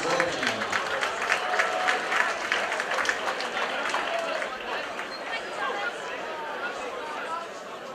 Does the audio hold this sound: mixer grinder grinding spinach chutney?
no